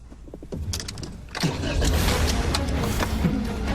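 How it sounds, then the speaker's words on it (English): A car engine revs hard and close, the roar jumping up sharply partway through and then holding loud and steady to the end. "Rev that engine up"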